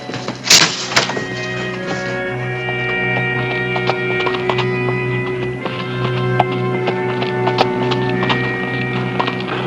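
A single horse approaches with a steady clip-clop of hooves on an Old West trail, a rider aboard, the hoofbeats moderately close beneath a sustained musical backdrop with no talking.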